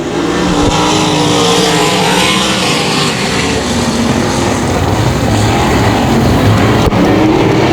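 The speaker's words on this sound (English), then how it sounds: "Car's going to mash the gas out of 4. We're green again." Race cars roar at full throttle at 281 Speedway, a loud, continuous wall of engine noise as the pack accelerates back to green together, with no voices over it.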